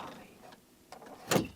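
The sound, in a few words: door being opened, sound effect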